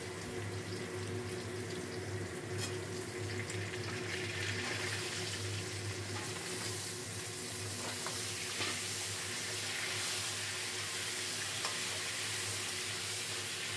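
Flat beans and potatoes frying together in a pan, a steady, even sizzle hissing continuously throughout with little change in level.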